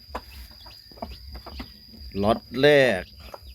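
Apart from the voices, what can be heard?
Pradu Hang Dam breeder hen clucking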